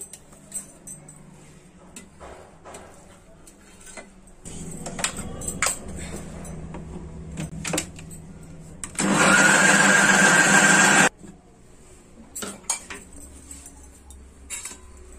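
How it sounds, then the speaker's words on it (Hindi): A mixer grinder purées boiled spinach with a green chilli, running loud and steady for about two seconds amid kitchen clinks of utensils and jars before and after. "अब मैं इसकी प्यूरी बना लेती हूँ"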